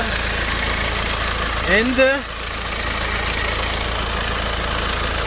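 A BMW 120d diesel engine, leaking oil around the oil filter housing, idles with a steady low rumble and clatter while someone speaks briefly over it.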